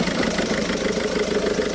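A Citroen C4 engine runs at idle with its air intake unmounted, giving a steady, even rumble with a droning vibration that stays constant throughout.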